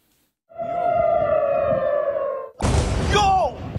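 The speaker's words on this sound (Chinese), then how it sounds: "以色列发出全国空袭警报" Air raid siren sounding in Israel during an Iranian ballistic missile attack, a loud steady wail starting after a brief silence, then cutting to a harsher rising and falling siren tone mixed with rumbling noise.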